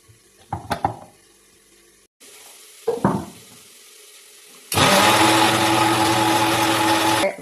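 A mixer grinder grinds masala paste in a jar for papaya sambar. A few handling clicks and knocks come first, then the motor starts midway with a loud, steady whirring roar that lasts to the end.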